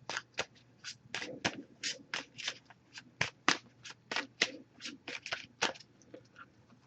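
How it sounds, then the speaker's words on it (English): A deck of oracle cards is shuffled by hand in a steady run of crisp riffling bursts, close and fairly quiet, with no voices over it. "I did pre-shuffle this deck, but I'm going to give it a few more shuffles"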